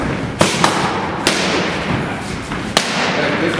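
A boxer lands body-shot punches on trainer's pads, giving several sharp, loud thuds at uneven intervals over a constant roar of gym noise.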